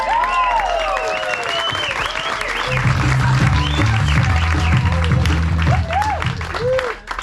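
A comedy-show audience applauds and cheers a comedian after his set, a continuous wash of clapping with whoops and shouts rising over it, and music entering midway.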